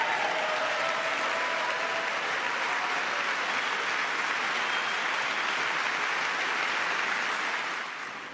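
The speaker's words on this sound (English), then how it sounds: "amount of applause for saying this obvious fact" An audience at a political speech breaks into sustained applause, a dense wash of clapping that holds steady for several seconds before starting to fade.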